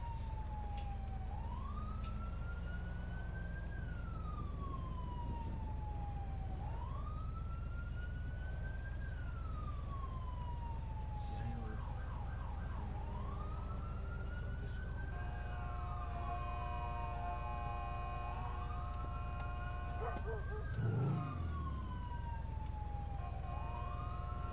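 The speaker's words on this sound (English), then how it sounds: "There seems to be some sirens." Video game police sirens wail in long rising and falling sweeps, a second siren joining midway, over a steady engine drone.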